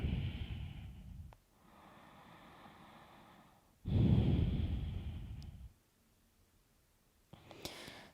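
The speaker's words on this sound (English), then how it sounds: "Take one more deep breath into that stretch." Slow, deep breaths taken during a yoga stretch: a long exhale, a fainter airy stretch, then a louder full inhale-exhale close to the microphone, followed by quiet and a soft final breath.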